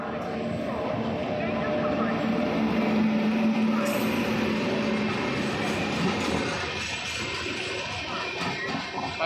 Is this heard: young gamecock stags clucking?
no